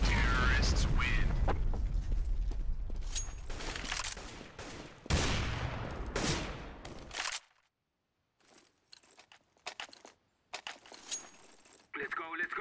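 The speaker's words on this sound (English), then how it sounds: "It is going to explode." Loud burst of gunfire and explosive blasts from a Counter-Strike: Global Offensive match, with dense crackling shots and booms for several seconds, then near silence broken by scattered sharp game sounds.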